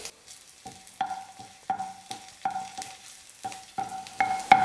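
Ginger and chopped garlic sautéing in hot oil, heard as a low sizzle broken by repeated spatula scrapes and clinks against the pan at a rough, steady pace, close by.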